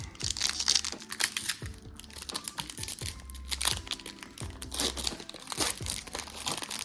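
Pokémon booster pack wrappers from a Pokémon EV10.5 bundle are torn open and crinkled by hand, a close, busy run of plastic crackling and ripping that carries on throughout with no talking.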